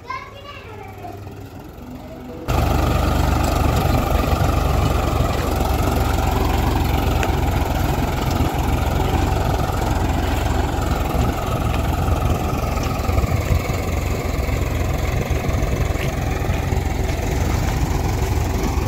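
A tractor engine idles steadily and loudly in a village field for most of the stretch, a constant low rumble under children's voices and nearby talk, after a quieter opening.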